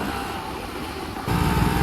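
A KTM Duke 250 motorcycle engine running, a steady rough rumble that swells louder partway through, close and without speech.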